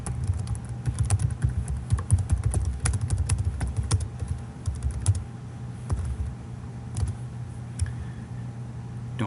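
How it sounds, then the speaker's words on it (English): Typing on a computer keyboard while entering a calendar description, with quick irregular key clicks at close range, steady and fairly soft, with no speech. "And you can type a description."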